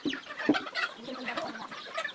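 Chickens on a rural farm clucking in quick, close, fairly quiet bursts that overlap through the whole moment, with no talking over them.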